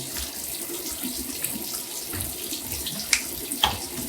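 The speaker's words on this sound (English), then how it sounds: "now I'm just gonna do a quick rinse" Tap water running steadily into a sink for a quick face rinse after a shave, a close continuous splash with a few brief sharper splashes near the end and no voices.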